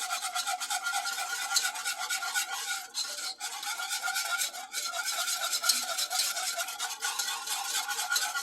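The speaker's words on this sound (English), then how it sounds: "Stir, whisk. All the lumps you want gone." A whisk scrapes steadily through milk and roux in a pan for mac and cheese, making a continuous close rasping swish with brief dips in rhythm and no voices.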